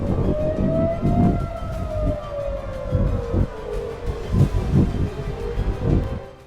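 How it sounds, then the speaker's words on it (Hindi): An air raid siren in Israel warns of an Iranian missile launch: one long wailing tone slowly falls in pitch, loud and steady over distant low rumbling, with no voices. "इसराइल में अभी सायरन्स बज रही हैं।"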